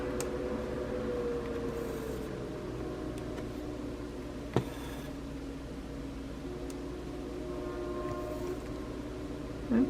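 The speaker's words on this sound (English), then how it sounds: "Okay, more trains moving." Trains moving in the distance, a low continuous rumble with faint drawn-out tonal whines and a couple of soft clanks, heard indoors through a steady background hum.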